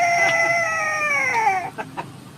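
A 12-year-old boy mimics a chicken: a long, sliding, nasal squawk gives way to a few short, clipped clucks, all close and alone.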